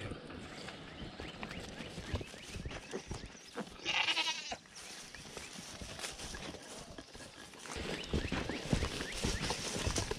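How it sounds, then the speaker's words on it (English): Goats bleat in a pen near a new fence, one loud nearby bleat standing out among hoof shuffles and rustling, with a quiet voice now and then. "Yeah, new goats in there."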